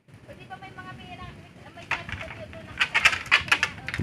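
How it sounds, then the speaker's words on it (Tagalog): Birds coo softly in short repeated calls, followed by brighter chirps and rustling, with a voice talking faintly in the background. "Alaga nilang ibon."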